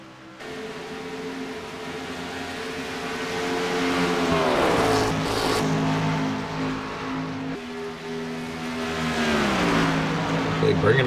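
Racing trucks in the Southern Motorsports Truck Series roar around the Auto Club track at night, a steady loud engine drone with rising and falling pitch as they pass. Commentary runs over the engines.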